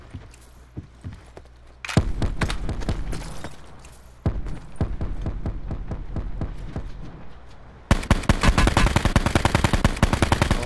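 Bursts of rapid automatic gunfire in Call of Duty Black Ops 4, loud and close, with sharp repeated cracks starting after a brief pause and intensifying into a dense volley near the end.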